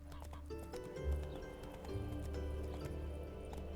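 Roach, a horse in The Witcher 3, walks with steady clip-clop hoofbeats, soft and close, amid faint game ambience and a brief snort.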